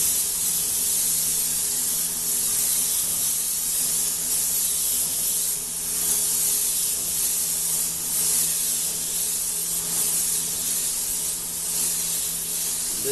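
An airbrush spraying grabber orange paint onto a ground metal panel, giving a continuous close airy hiss that swells slightly in places as the trigger is worked, with no voices.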